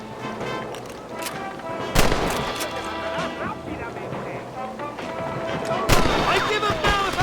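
Enemies on a cliff fire at the player in the video game Red Dead Redemption: scattered rifle shots ring out, with two loud cracks standing above a continuous rumbling background of distant shooting.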